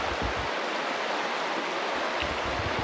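Teapot Creek rushes past in a remote trail-less valley, a steady broadband hiss of flowing water close by, loud and unbroken.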